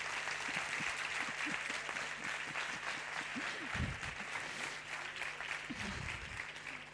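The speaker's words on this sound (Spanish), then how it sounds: "Darle un aplauso a vuestro compañero que se ha dormido." Audience applause during a statistics talk, a steady wash of clapping with a distant, moderately quiet room sound, some louder individual claps and faint voices underneath.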